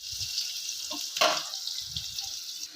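Onions frying in hot oil until golden brown, a steady close sizzle with faint stirring and a brief louder hiss partway through.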